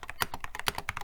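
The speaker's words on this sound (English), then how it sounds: "Would you make your keyboard sound like this" Rapid typing on an Epamaker Skyloon GK87S mechanical keyboard, a steady run of crisp, close clicks and clacks at an even pace, heard alone and fairly quiet.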